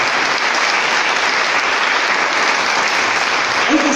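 A church congregation at a celebration dinner breaks into steady applause, a dense, even wash of clapping that holds at the same loudness from start to finish, with a faint voice appearing right at the end.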